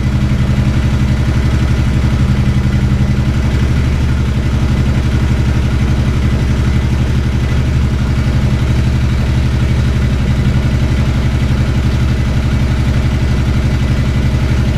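A motorcycle engine idles at no load with the lights off while its regulator and RM stator are tested, giving a loud, steady, close-up chugging drone that holds evenly from start to end.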